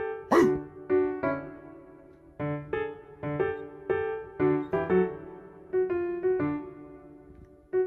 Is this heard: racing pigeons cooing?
no